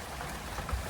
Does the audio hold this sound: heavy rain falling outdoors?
yes